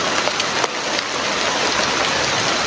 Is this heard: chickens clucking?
no